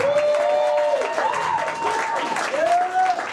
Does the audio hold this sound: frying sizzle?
no